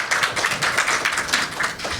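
Dense, steady applause from a seminar audience at a stakeholders' event on Thailand's energy structure, a close crowd clapping continuously for about two seconds with no voices over it.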